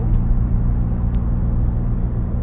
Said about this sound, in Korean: 속도를 낼수록 엔진 소리가 커집니다